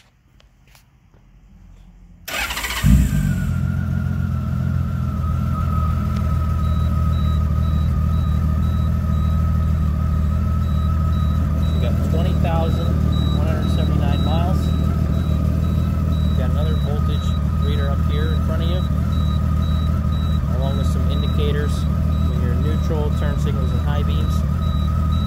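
A 1998 Honda Valkyrie Tourer Custom GL1500CT motorcycle fires up after a couple seconds of quiet, then settles into a steady, smooth loud idle that runs on close by, with faint footsteps and handling noises over it.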